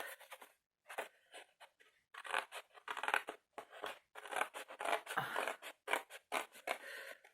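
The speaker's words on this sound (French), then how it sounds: "Ici, on va couper le long de la boîte." Scissors cut along a small cardboard box in quiet, close snips and crunchy bursts. The cutting comes in irregular runs separated by short pauses, and nobody speaks.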